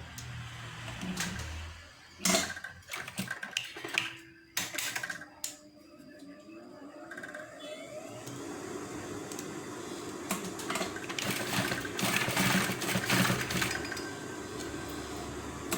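A sewing machine stitching a zipper into a T-shirt, running in a fast, even mechanical chatter that builds in the second half after a few short clanks and pauses.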